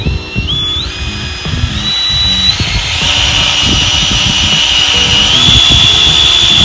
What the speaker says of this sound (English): We're going to drill all the way through into the spacer.